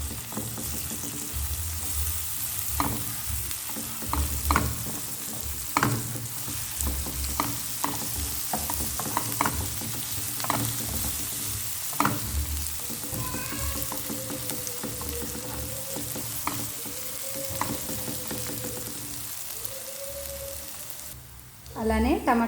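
Sliced onions with ginger garlic paste sizzle steadily in a pan while a spoon scrapes and stirs in repeated strokes, close and moderately loud, with a brief voice near the end.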